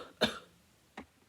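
A small, soft cough told as a flea's cough in a children's story: one sharp cough followed by a fainter second cough, quiet and close.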